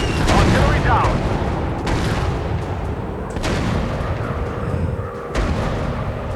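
Dense, loud bursts of rapid warplane gunfire and booming bomb blasts roll continuously, with sharp explosive hits every second or two, in a chaotic video game set in a British-German air war.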